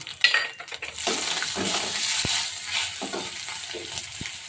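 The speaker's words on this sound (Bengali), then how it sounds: "দিয়ে দিলাম 5 ফোড়ন, শুকনো লঙ্কা," Panch phoron and dried red chilies fry in mustard oil in a kadai alongside fish, giving a steady sizzle broken by spatula clinks and scrapes against the pan.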